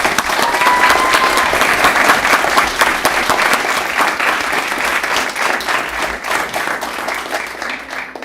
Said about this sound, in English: let's give a round of applause for them as well